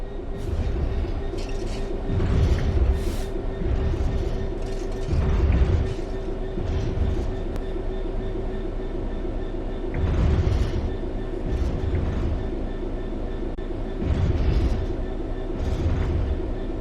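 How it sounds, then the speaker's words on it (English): Steady rumble of a diesel train coasting on level ground in Train Sim World 4, with rhythmic clickety-clack from the wheels and a constant low engine hum, swelling and easing periodically. "The train will then coast on level ground, and the train will only slow down very gradually."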